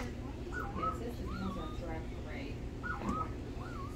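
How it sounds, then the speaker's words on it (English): A crow at the Memphis Zoo gives several hoarse caws in an irregular rhythm over steady background noise, fairly distant. "But usually crows go, ha, ha, ha."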